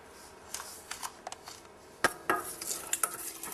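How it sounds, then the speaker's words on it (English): Dry ingredients, salt, pepper and spices being mixed in a bowl while baking pfeffernusse cookies, a short run of light scraping and tapping strokes with a few sharper clinks, close and fairly quiet, no talking. "Now I'm mixing the salt and pepper. And I'm mixing all the spices together now."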